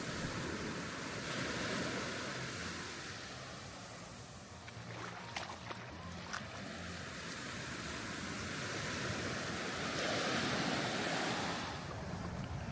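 Ocean waves roll and wash steadily onto a beach at Disney's Lookout Cay, a continuous broad surf roar with wind buffeting the microphone and no talking.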